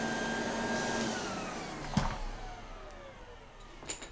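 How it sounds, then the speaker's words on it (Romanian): A household vacuum cleaner runs with a loud, steady whine that winds down as it is switched off, followed by a couple of brief knocks. "oprește aspiratorul."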